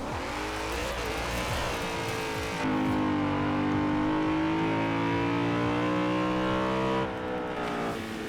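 A BMW E46 M3 GTR in Forza Horizon 4 revs hard, its engine note climbing and holding at high pitch, then dropping away near the end, loud and alone with no talk.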